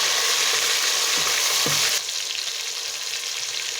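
Large tomato pieces fry in a pan of oil for Peshawari matar pulao, a loud close steady sizzle with a couple of soft stirring knocks, dropping to a quieter hiss halfway through; no talking.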